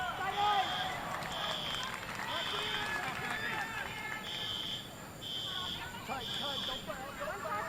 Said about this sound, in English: Had alarms go off in the stadium